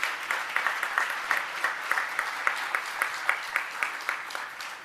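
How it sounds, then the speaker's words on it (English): Audience applause at a 2019 graduation ceremony, fairly faint and somewhat distant, with many hands clapping and a few sharper claps standing out in a loose rhythm throughout. "So please, let's give them another round of applause for doing that."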